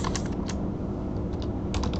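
Brisk typing of code on a computer keyboard, a close, steady patter of key clicks with a few sharper strikes, no voices.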